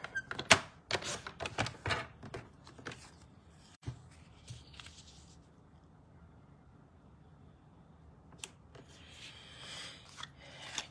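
Scissors cut paper for sun print flip-top cards, giving a quick cluster of crisp snips and rustles up close, a pause, then a few more faint cuts against a quiet room.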